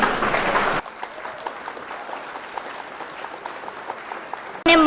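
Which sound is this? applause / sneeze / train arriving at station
applause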